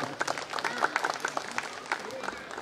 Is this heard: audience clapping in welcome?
yes